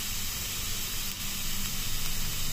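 Carrots and other vegetables fry in a pan as filling for stuffed peppers with zucchini and minced meat, giving a steady, dense sizzle and hiss throughout with no talking.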